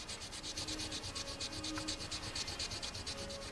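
Motorcycle fork legs on an FZR restoration are wet sanded by hand with 2500 grit paper and oil, a soft rhythmic rubbing in quick, even back-and-forth strokes, close and quiet.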